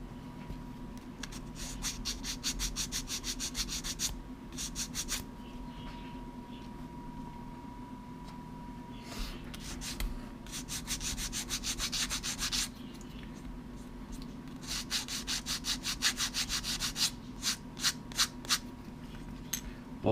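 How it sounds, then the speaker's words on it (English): Wooden pieces being sanded flat by hand, with repeated rhythmic rasping strokes in bursts separated by short pauses over a low background hum, close up with no speech. "I want to make sure these are sanded nice and flat"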